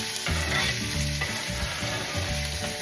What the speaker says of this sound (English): We have a heated pan with extra virgin olive oil, medium heat, put all that meat in there.